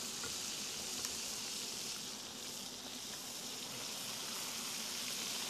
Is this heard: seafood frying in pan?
yes